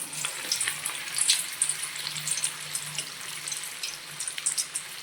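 Crispy spinach palak pakoda fritters made with gram flour frying in hot oil, a dense, continuous crackling sizzle close by with no speech over it.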